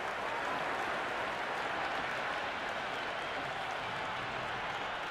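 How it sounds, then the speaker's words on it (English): Dense, steady roar of a stadium crowd applauding and cheering without a break during an India vs Pakistan T20 cricket match in the Cricket 26 video game. "It's evident and ever so audible that the crowd is at near bursting point at today's play."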